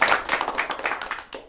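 Audience applause at a staged reading after a golf shot outdrives a rival, a dense burst of clapping that swells and fades in waves over a second and a half with no voices.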